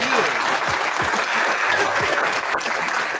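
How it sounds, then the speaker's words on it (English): A round of applause during a 49ers vs Seahawks postgame discussion show, steady close clapping that fills the moment while some voices murmur underneath. "let's give a round of applause for that"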